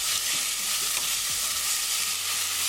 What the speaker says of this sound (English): But keep it moving so it won't get burned, since the pan is still hot